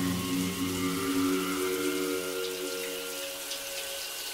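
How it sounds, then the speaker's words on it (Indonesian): A shower tap in a hotel bathroom runs by itself, a steady hiss of spraying water with a faint pipe hum beneath, continuous and fairly close, no voices. "keran shower airnya menyala sendiri"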